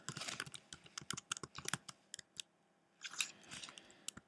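A computer keyboard clatters as streets are typed into a taxi dispatcher application, with quick close key clicks in bursts, a short pause, then more typing and no talk.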